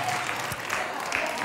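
Studio audience on a Spanish afternoon TV show bursting into steady, dense clapping that fills the whole moment, close and loud without pause.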